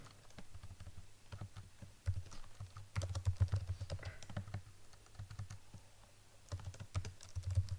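Code is typed on a computer keyboard in quick irregular bursts of soft clicking keystrokes, close and fairly quiet, pausing briefly between runs.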